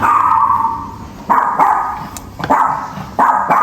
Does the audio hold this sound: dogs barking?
yes